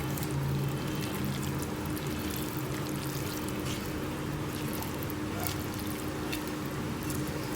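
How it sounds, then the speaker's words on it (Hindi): Boiled chickpeas for chana chaat are tipped from a pan into a bowl, giving a steady, soft pouring and sliding rustle that carries on evenly throughout at low volume. "चनों को हम एक बाउल में निकाल लेंगे।"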